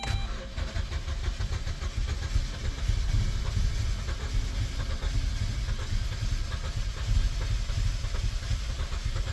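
An old, cheap beater car with a weak battery and likely bad gas cranks and struggles to start, a steady loud engine rumble filling the whole stretch without speech.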